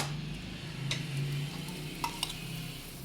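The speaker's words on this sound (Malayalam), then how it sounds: "ആ സൈഡും അതുപോലെ നെയ്യ് ഒഴിച്ചിട്ട് നന്നായിട്ട് ഫ്രൈ ആക്കണം." Obbattu, a sweet Bangalore flatbread, frying in ghee on a pan, with a steady soft sizzle and a few light clicks of a spatula, close and alone.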